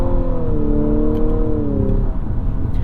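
A 2022 Infiniti QX55 with a CVT revs under acceleration while the paddle shifter triggers a simulated upshift: a loud steady engine drone whose pitch rises, then drops sharply near the end, heard from inside the cabin.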